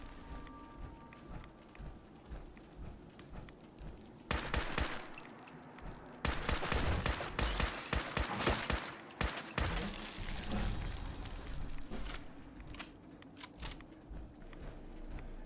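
Rifle shots from Fallout 4 firing at a rad scorpion hunter: a burst of loud, sharp reports around the middle, then scattered single cracks fading out, over a low game ambience with no voices.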